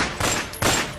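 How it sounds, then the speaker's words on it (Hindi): Rapid bursts of gunfire from a cross-border firing incident, two loud dense volleys in about a second, close and harsh, with no talk over them. "सरहद पर की फायरिंग।"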